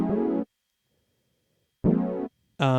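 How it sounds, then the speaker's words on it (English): A synth patch built in Ableton Operator plays two brief, buzzy, harmonically rich notes separated by silence, then a third brighter note begins, dry and alone. "I also made a synth and operator here,"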